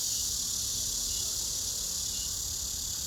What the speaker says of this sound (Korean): 귀뚜라미가 울고